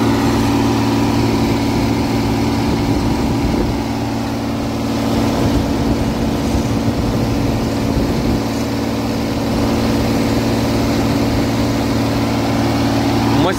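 A heavily loaded vehicle climbing out of a stone quarry under machine power, its engine droning steadily with a strong low hum and a rough mechanical rattle, close and constant throughout.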